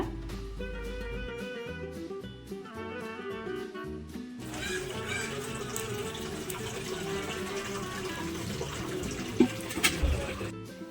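Water is poured into a biryani pot and stirred in, giving a steady, moderately loud pouring and splashing wash that follows a few seconds of quiet music.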